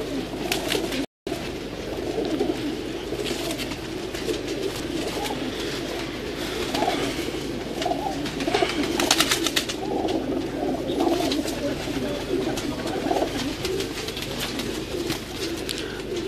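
A flock of fancy pigeons coos on a rooftop loft, a steady chorus of soft, overlapping calls with occasional rustling and no speech.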